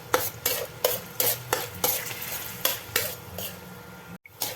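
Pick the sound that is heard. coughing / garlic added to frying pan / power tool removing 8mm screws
garlic added to frying pan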